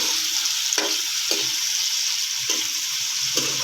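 Potatoes and bell peppers frying in a pan make a constant bright close sizzle, punctuated every second or so by brief stirring scrapes.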